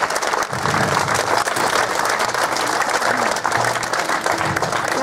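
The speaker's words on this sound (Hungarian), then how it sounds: "és hatalmas taps!" Guests at a Krishna wedding ceremony in Budapest break into enthusiastic applause for the couple, a full, continuous clatter of clapping with low murmurs and faint background tones beneath it.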